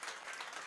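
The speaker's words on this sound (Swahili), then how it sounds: "Jipigie makofi pili basi." A congregation at a church breakthrough service claps in a dense, steady burst of applause that fills the whole brief moment, with no speech over it.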